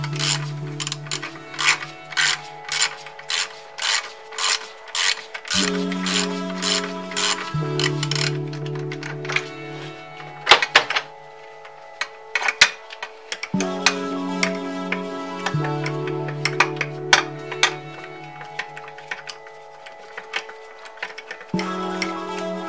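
Ratchet wrench working the last intake manifold bolt on a Volvo engine, rapid rhythmic clicking in repeated bursts that alternate with pauses and changes in pitch, close and clear.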